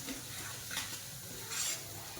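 Semolina (rava) is roasted in ghee and stirred in a pan, giving a soft, steady sizzle with two brief scraping sweeps of the spoon, quiet and close, with no voices.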